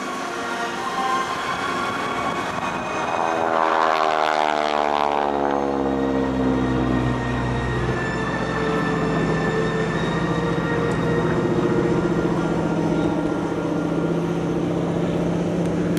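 A T-6 propeller airplane drones overhead, its engine pitch sliding downward as it passes, then a steady loud rumble continues.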